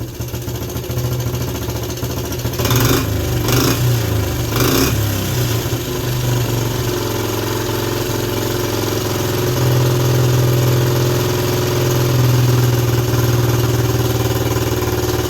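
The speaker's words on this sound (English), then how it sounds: "Pretty sure the carburetor needs a good cleaning, but I'm happy it's running good." A Suzuki LT125 ATV engine with a carburetor in need of cleaning runs steadily at a loud, close idle, with a few brief blips of throttle early on before settling into an even drone.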